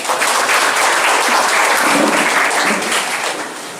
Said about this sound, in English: Shall we all clap for that?